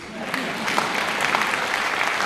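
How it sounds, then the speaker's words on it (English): An audience claps for the wives at a spiritual discourse on the Srimad Bhagavatam, a loud, continuous roomful of hands with sharp individual claps standing out, and a voice faintly audible beneath the clapping. "Clap for them"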